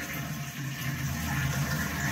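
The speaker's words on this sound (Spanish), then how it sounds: "y se habrá ido el agua completamente." A toilet flushing via its lever, with steady rushing water draining from the tank and filling the bowl, loud and continuous at close range with no voices.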